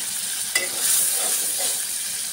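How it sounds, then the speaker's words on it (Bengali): Prawns and spices stir-frying in a pan, a steady close sizzle with a sharp spatula scrape against the metal near the start, with no talking. "এখন মশলাগুলো কষিয়ে নেব।"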